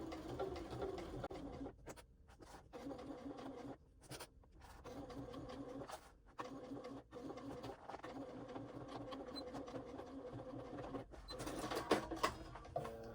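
A sewing machine stitches fabric around a corner while making a waist pack, running in steady whirring bursts with brief pauses between runs and a louder stretch near the end.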